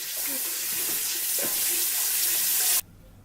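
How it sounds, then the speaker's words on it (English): A kitchen tap runs steadily for hand washing before cooking, a close, even hiss of water into the sink that stops abruptly near the end. "You guys always know what we do before cooking? Wash our hands!"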